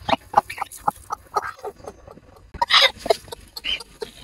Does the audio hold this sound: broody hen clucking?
yes